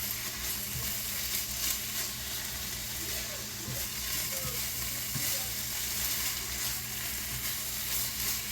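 Coconut and milk mixture roasting in a pan for coconut laddoos, a steady close sizzle with faint scraping of a spatula, no voices.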